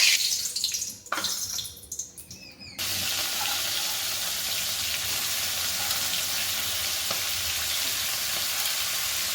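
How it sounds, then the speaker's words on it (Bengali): Prawns frying lightly in hot oil in a pan: a few clattering handling sounds, then a steady, bright sizzle that holds evenly and fills the rest of the clip. "এবার আমি চিংড়ি মাছগুলোকে হালকা করে ভেজে নেব"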